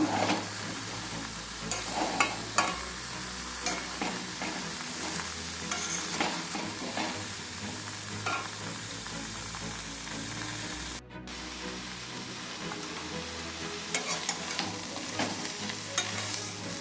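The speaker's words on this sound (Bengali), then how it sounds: "এভাবে নাড়িয়ে চাড়িয়ে ডালটাকে ভেজে নিতে হবে" Mung dal with chopped bottle gourd stirred and fried in a pan, a continuous oily sizzle with repeated scraping strokes of the spoon, close and steady with a brief pause midway.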